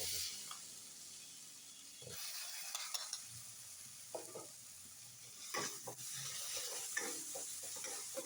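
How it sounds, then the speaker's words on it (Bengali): Ground spice paste of coriander, cumin, green chilli, garlic, ginger and tomato frying in a pan, a quiet steady sizzle broken by scattered scraping stirs and clinks, with no voices. "ওখান থেকে আমি 2 চামচ মশলা দিয়ে দিচ্ছি।"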